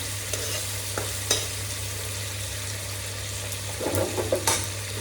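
Potatoes fry in a pan with a low, steady sizzle over a constant hum, marked by a few sharp scrapes and a burst of stirring near the end, close by and without speech.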